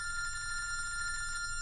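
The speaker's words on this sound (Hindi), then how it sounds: "फोन उठा, मेरा फोन उठा।" A telephone bell rings steadily throughout, a bright continuous electronic trill over a low background hum, with no voices.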